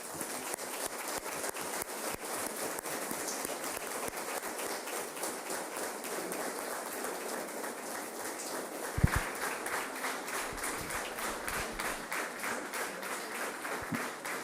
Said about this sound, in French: s'entendre applaudir par les conseillers municipaux